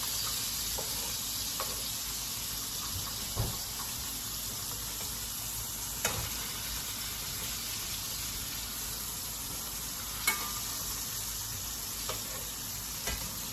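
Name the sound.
salmon searing in a pan after flipping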